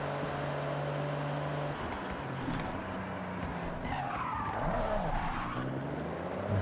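Racing car in Forza Horizon 6, engine droning steadily, then dropping as it brakes and downshifts into a sliding turn, with tires skidding and squealing over revving engine noise.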